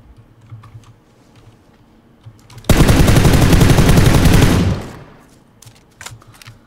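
Automatic gunfire in a battle royale video game: one loud, dense burst of rapid shots lasting about two seconds, standing out sharply against quiet background game sounds.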